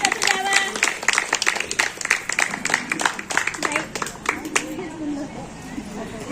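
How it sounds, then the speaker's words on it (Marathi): Applause breaks out as a guest arrives at a Makar Sankranti community gathering, dense clapping that thins out after a few seconds while the crowd keeps murmuring and talking. "टाळ्यांचा गजर."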